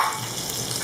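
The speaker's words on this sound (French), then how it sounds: "dans la poêle, on va mettre un petit peu de l'huile de table et un petit peu de beurre" Oil and a little butter heating in a frying pan, giving a steady, close hiss of sizzling fat with no break.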